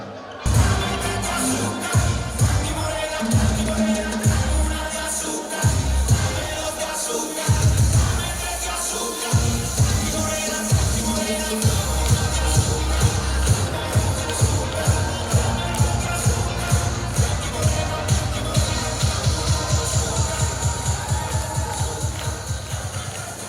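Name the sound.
applause and cheering for a school class at a festival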